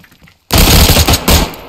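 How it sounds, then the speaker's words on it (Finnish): Gunfire in the survival game DayZ: after a brief near-silence, a loud burst of rapid automatic shots rattles on, with a second short burst near the end, close and dominant. "Heti kun se nosti asseni, mä ampun."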